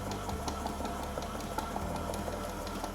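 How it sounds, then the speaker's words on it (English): Electric mixer whirring steadily while eggs are added to chocolate cake batter, a continuous mid-pitched motor hum with light rattling throughout, close and fairly loud. "Now we'll leave the mixer on and slowly add the eggs to it."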